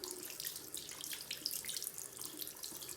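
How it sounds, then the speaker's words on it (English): Tap water runs steadily in a sink as makeup brushes are rinsed, a soft continuous splashing hiss with no voices. "And rinse it out pretty thoroughly"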